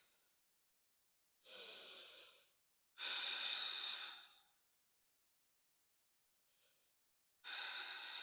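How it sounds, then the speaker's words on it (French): Slow, deep breaths during a held static yoga pose: four long airy inhales and exhales separated by quiet pauses, close to the listener and with no talking over them. "Et on reste ici 2 cycles de respiration."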